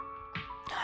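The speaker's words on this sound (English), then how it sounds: "Sorry that I have to clear my throat so often today." A person clears their throat in two quick, rough, close bursts within a second, separated by a brief pause.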